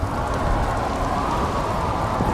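Heavy rain falling on the streets of an acid-soaked city in the video game Nobody Wants to Die, a dense, steady hiss of downpour, close and constant, with no talk.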